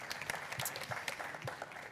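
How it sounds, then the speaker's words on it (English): Audience applause at a startup and smart-city panel in Barcelona, a burst of scattered hand clapping from a modest crowd that thins out over two seconds. "Another round of applause for launching here in Barcelona."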